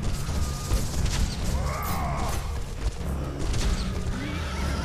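A horse whinnies in God of War 2, a wavering neigh rising over a busy backdrop of rumbling game ambience and clatter, with a second fainter call later.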